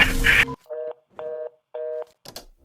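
A telephone line going dead mid-call: a short burst of noisy audio stops abruptly, then three evenly spaced electronic tones sound alone, followed by a faint crackle.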